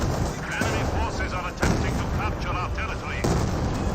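A cruiser artillery barrage in the World War II strategy game Company of Heroes 2 pounds away in repeated heavy booms, with battle noise and a commentator talking continuously over the explosions.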